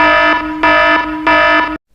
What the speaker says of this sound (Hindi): रात के लगभग 2 बजे उस बिल्डिंग का सिक्योरिटी अलार्म बजने